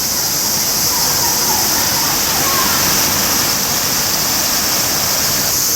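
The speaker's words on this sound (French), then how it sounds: "Une cascade." A waterfall at a shopping centre terrace in Tokyo, Japan, rushes in a loud, constant roar, its steady bright hiss filling the space without pause.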